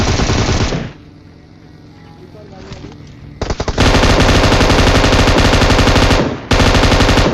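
M249 machine gun in PUBG Mobile fires long loud continuous bursts, close up, with a short pause between volleys.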